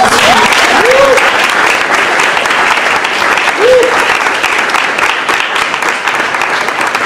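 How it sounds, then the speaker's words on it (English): A round of applause from an audience at a student council general assembly meeting, dense steady clapping throughout with brief voices and cheers rising over it. "So give Andrew a round of applause"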